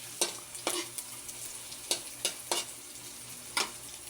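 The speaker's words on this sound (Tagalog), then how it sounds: "yung amoy ng ginisang bawang guys." Garlic sizzles softly in a hot pan while a spatula scrapes and taps against it in several quick, irregular strokes, close and fairly quiet.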